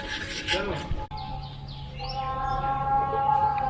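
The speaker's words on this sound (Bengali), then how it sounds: "এখনো পাখির ডাকের আওয়াজ শোনা যাচ্ছে।" Birds call in a quiet forest resort near Joypur, with a sustained tonal whistle-like call rising and holding over soft ambient noise after a brief rubbing sound.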